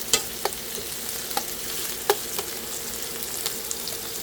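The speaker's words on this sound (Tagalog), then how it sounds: "Tayo po ay nagigisa na para sa ating sarsyadong isda." Oil sizzles steadily in a pan as aromatics are sautéed for fish sarsiado, with a few faint clinks and stirring scrapes over the even frying hiss.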